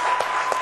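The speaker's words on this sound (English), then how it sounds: "Can we applaud Mr. Bloomer for that?" Two sharp, close hand claps ring out a fraction of a second apart over a steady low hum, as an evening audience begins applauding Mr. Bloomer.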